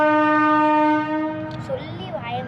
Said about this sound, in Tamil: இன்னைக்குன்னு பார்த்து ட்ரெயின் வந்துருச்சு